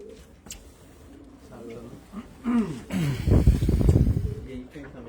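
Racing pigeons cooing inside a loft, several soft throaty coos in a row close by, followed by louder rustling and flapping-like bursts, with someone talking briefly.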